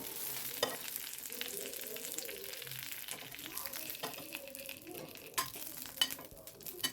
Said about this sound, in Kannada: ನಾನು ಮತ್ತು ಕರ್ಬೇವಿನ ಸೊಪ್ಪು ಸ್ವಲ್ಪ ಫ್ರೈ ಮಾಡ್ಕೊತಾ ಇದ್ದೀನಿ